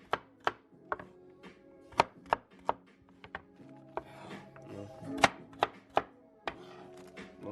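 A knife chops carrots on a cutting board in a home kitchen, with sharp, close, evenly spaced thuds coming about twice a second, with a busier cluster of cuts partway through.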